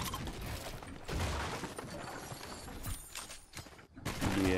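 Rapid gunfire in the Fortnite video game, played during a Drake FNCS Cup match, with bursts of sharp shots and mechanical clatter in a dense, loud mix across the clip.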